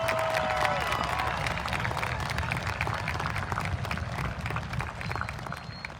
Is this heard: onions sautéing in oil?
no